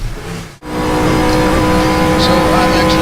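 A GT race car in a racing video game, on a test lap of a GTR24h 2013 car pack: after a brief dropout, a loud, steady engine drone holds at high revs, with faint higher whines.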